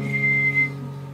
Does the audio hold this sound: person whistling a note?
yes